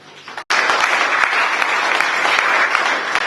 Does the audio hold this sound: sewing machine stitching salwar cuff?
no